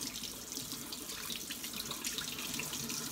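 Cold water runs from a tap over a foam model aircraft wing as it is straightened, making a continuous close hiss and splash with no talking.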